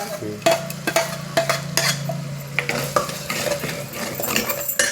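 Ground masala tipped into a hot pan and stirred, loud repeated metal spatula clanks and scrapes against the pan over a low sizzle, close up.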